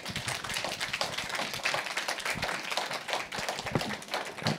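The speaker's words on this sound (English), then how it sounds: "Could I ask you also to give a round of applause to Edith, because Edith was the person who d" An audience applauds steadily, a dense patter of many hands clapping at once from start to finish.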